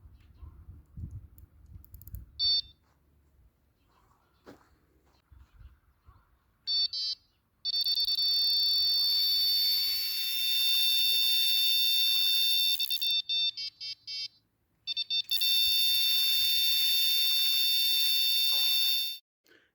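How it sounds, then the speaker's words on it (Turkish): A carp fishing bite alarm on a rod pod being tested, giving several long, loud, shrill electronic tones with short gaps between them, after some faint clicking and handling noises. "Şimdi bir de alarmımızı bir kontrol edelim nasıl çaldığını."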